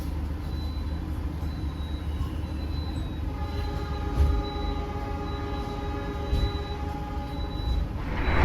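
KA Taksaka executive passenger train pulling out of a station, a steady low rumble of rolling railcars with faint tonal whines and a brief horn-like tone, continuous and moderately loud throughout.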